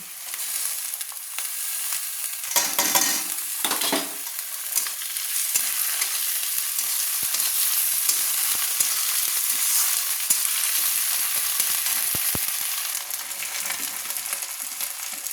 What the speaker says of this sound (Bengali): পেঁয়াজটা আবার লাল লাল করে ভাজা হয়ে গেছে দিয়ে দিলাম বেটে রাখা আদা রসুন